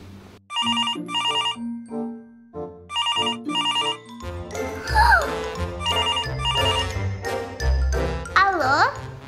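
A telephone rings with repeated bursts of bright electronic chiming tones in a children's cartoon, interleaved with music, a voice and playful vocal sounds.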